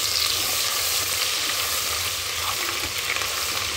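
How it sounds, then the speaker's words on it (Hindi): Ginger and garlic frying in hot oil with cumin, bay leaf, cardamom and garam masala for egg biryani, giving a steady, loud, continuous sizzle with no talking. "एक मिनट के लिए हम भून लेंगे अदरक लहसन को"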